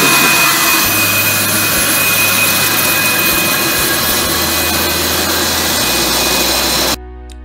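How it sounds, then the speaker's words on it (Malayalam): An aircraft auxiliary power unit runs with a loud, steady turbine roar and high whine, close and continuous for about seven seconds before stopping abruptly. "എ പി യുവിൻ്റെ ശബ്ദം നമ്മൾ ഏകദേശം എ പി യു ശബ്ദിച്ചു"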